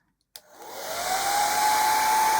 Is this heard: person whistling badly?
no